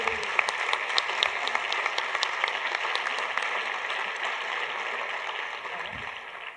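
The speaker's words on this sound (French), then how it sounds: "On peut les applaudir très chaleureusement." Warm, sustained applause from an audience for the speakers at a closing session, steady dense clapping that carries evenly through the whole stretch with no talk over it.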